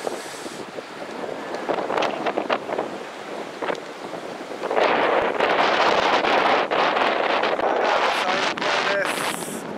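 Wind buffets the microphone on a riverside super levee in Osaka, with steady roaring gusts that strengthen midway, loud and continuous.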